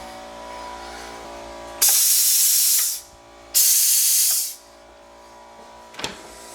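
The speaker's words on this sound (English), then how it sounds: "I'm going to push air through the solenoid" Compressed air is pushed through a dishwasher solenoid while a house with a well pump is winterized. Two loud, sharp bursts of hissing air each last about a second, with a short click afterward over a low background hum.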